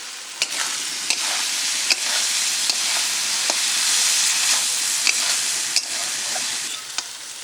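A fried spice paste sizzles loudly in a pan with pointed gourd (potol) seeds added, a continuous bright crackle punctuated by regular sharp scrapes and taps of a stirring spatula.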